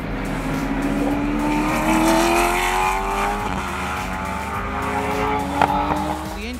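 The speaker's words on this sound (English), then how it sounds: "The engine in this car is a Roush Yates 5-litre V8, producing about 520 horsepower." A Ford GT GT3 race car with a Roush Yates 5-litre V8 of about 520 horsepower roars loudly and steadily, its engine pitch climbing through the gears before dropping and rising again.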